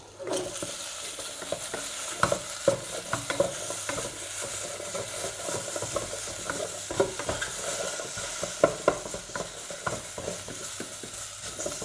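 Pork stir-fries in a hot pan for Japanese curry, a continuous sizzle broken by repeated scrapes and clacks of the spatula against the pan.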